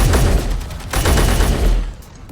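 Bursts of rapid gunfire blast at spiders in Space Engineers, two loud dense volleys close up, the second breaking off abruptly into quiet.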